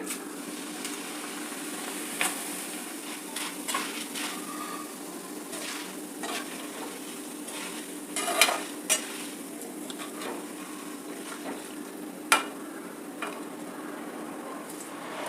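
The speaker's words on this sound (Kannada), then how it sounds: "ಈಗ ಅವಲಕ್ಕಿನ ಹೀಗೆ ಕಾದಿರೋ ಎಣ್ಣೆ ಒಳಗೆ ಹಾಕ್ತೀನಿ" Flattened rice (poha) sizzles in hot oil, a constant close frying crackle broken by occasional metallic clinks of a stirring utensil against the pan, with no talking.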